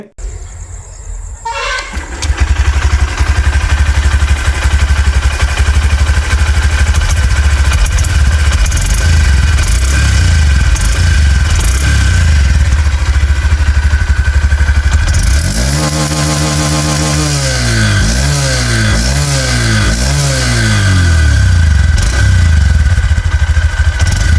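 A 2026 Honda Shine 125 motorcycle engine starts up and idles loudly near the exhaust, a steady throaty rumble, then is revved in repeated rising and falling bursts.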